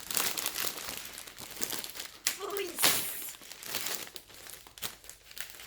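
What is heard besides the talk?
opening a package sealed with sticky tape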